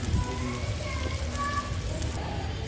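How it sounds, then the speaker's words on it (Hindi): Small dried shrimp (jawla) fry in hot oil in a village kitchen, giving a steady, dense sizzle and crackle that holds at an even level throughout. "अभी जेवले को फ्राई करके निकालेंगे।"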